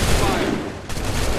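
A loud, close musket volley in Assassin's Creed III, a massed crackle of many muskets firing at once with a second burst following shortly after.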